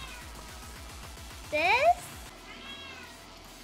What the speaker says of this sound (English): Yeah, lots of meowing.